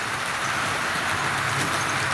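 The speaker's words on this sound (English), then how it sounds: "So while the old Class 37 pulls its train round" A Tri-ang model railway Class 37 locomotive pulls its train around a layout, giving a steady, close, unbroken rolling whir and rattle that holds at the same level throughout with no speech.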